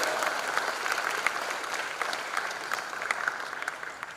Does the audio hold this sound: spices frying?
no